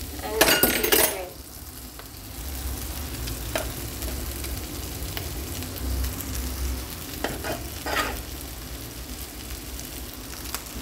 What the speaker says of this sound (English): Add the rice and mix it well.